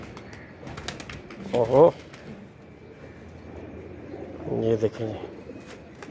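Two bouts of pigeon cooing come from young birds kept as pets in a loft, soft and close, while someone talks over and between the calls.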